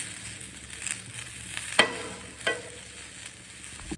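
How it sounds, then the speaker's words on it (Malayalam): Boiled, crumbled potato sautéed in oil in a pan gives a soft, steady sizzle with a few sharp scrapes and stirs, quiet and close, with no talking. "അത് ജസ്റ്റ് ചുമ്മാ എണ്ണയിലൊന്ന് വഴറ്റിയെടുക്കുകയാണ്"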